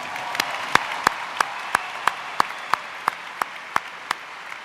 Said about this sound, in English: Let's give him a round of applause for that one.